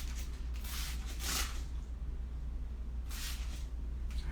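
Spray paint hissing onto an artwork as colors are blended without a brush, in short soft bursts separated by pauses over a low steady hum.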